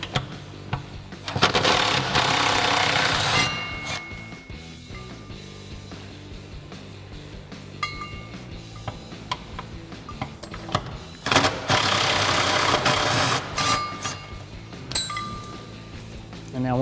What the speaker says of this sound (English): I'm going to take my 10mm on my electric impact ratchet and remove them.